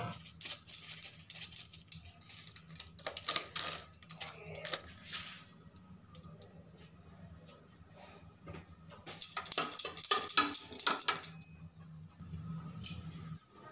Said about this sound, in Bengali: এবার ডিমের মধ্যে পরিমাণ মতো লবণ, সামান্য হলুদ, সামান্য লঙ্কা গুঁড়ো আর 1 স্পুন গোলমরিচ দিয়ে ভালো করে ফেটিয়ে নেব